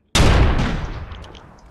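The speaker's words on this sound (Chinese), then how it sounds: "让我来试一下大炮的威力" A single loud shot from an AMR .50-calibre anti-materiel rifle in the PUBG battle royale game, with a sharp blast followed by a long booming tail that fades over more than a second.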